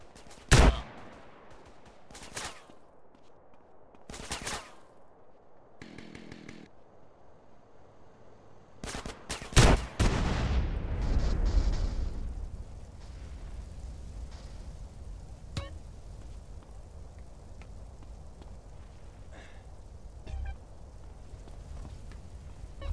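Gunfire in GTA San Andreas, with scattered single shots and bursts at first, then a heavier rumbling spell of fire that fades into a low, steady background with a few faint pops.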